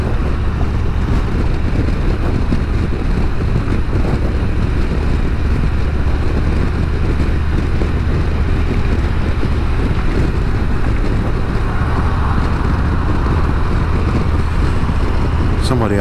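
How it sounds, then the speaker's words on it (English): A steady, loud roar of wind blows across the microphone without pause while riding over a bridge on the Florida Gulf Coast, continuous and unbroken throughout. "A little windy."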